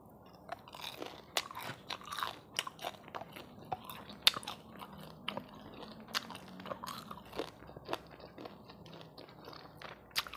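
Crisp, repeated crunching as someone bites and chews crispy fried pork intestine with garlic, close to the mic: sharp irregular crackles over about ten seconds against a quiet background, no talking.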